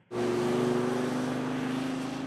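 BMW i8 hybrid engine sound played through the car's speakers, a steady droning hum rising abruptly from silence and holding at an even level, close and alone.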